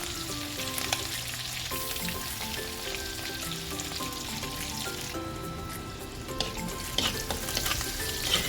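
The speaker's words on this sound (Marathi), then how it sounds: "छान फ्राय करून घ्यायचं आहे." Crushed garlic and chillies fry in a pan for a traditional spinach and buttermilk curry, giving a steady, dense sizzle with soft stirring scrapes throughout, close and fairly loud, with no voices.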